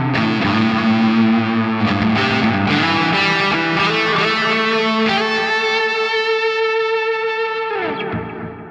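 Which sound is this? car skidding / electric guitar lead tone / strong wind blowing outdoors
electric guitar lead tone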